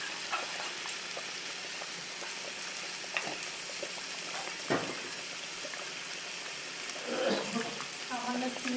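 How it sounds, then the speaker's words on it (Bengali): Spice paste frying with salt in a pan: a low, continuous sizzle and bubbling with occasional scrapes of a utensil, fairly faint, and a short louder stir near the end. "সামান্য নুন দিয়ে মশলাটাকে কষাই"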